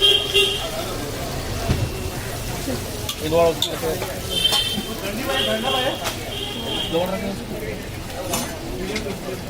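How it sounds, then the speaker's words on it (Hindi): Pav bread frying in butter on a flat griddle at a Mumbai vada pav stall, a steady sizzle with scraping and stirring running beneath a voice and street noise. "ये देखो जा रहा है पाव, पूरा बटर में सोक होगा"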